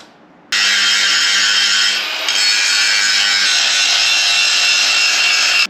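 A power grinder bites into a Toyota FJ45 steel chassis to take it back to bare metal, giving a loud, continuous, harsh grinding whine close by with a brief dip partway through.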